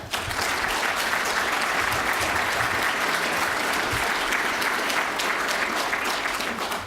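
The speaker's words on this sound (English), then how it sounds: "I would ask you to show that solidarity by simply applauding" Steady, dense audience applause at a poverty assembly, many hands clapping at an even level throughout without a break.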